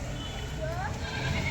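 A tan-coloured goat bleats a few times at a goat farm in Hyderabad, the calls rising out of a steady background murmur of voices and farm noise.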